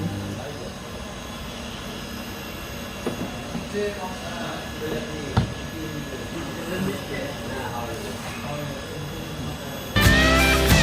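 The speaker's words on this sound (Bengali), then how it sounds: "এখন রাত দুটো চল্লিশ ট্রেন মালদা স্টেশন ছেড়ে বেরিয়ে যাচ্ছে" A train pulls out of Malda station at night, its steady low rumble and rolling noise filling the platform, with occasional knocks, voices nearby and a sudden louder burst of wheel and carriage noise near the end.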